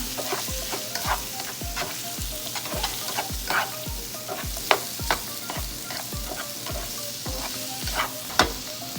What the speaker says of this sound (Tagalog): Ilalagay na po natin tong green peas and carrots. Mix lang po natin siya.